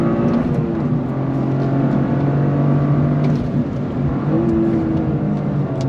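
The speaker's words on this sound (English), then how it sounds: "Got that sound of that inline 3 turbocharged engine." Turbocharged inline-three engine of a 2023 Toyota GR Corolla revs loudly and continuously from inside the car, a dense throaty drone with shifting pitch and no talk.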